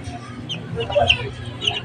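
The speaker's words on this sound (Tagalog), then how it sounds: "Ayan, mga manok ko, ha." Chickens cluck softly nearby, a few scattered clucks and murmurs over a low background hum.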